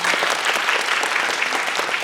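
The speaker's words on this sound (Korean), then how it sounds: "퇴장하시는 동안 박수를 보내드리겠습니다." A theatre audience at a film festival guest talk applauds warmly as guests leave the stage, a dense, steady clapping from many hands filling the room.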